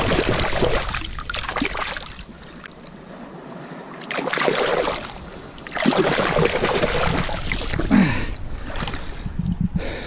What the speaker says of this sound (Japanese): 今度は薬瓶を洗いましょう